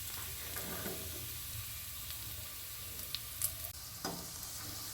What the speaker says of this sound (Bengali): দেখুন এইভাবে লাল লাল করে একটা একটা করে আমরা ভেজে নেব।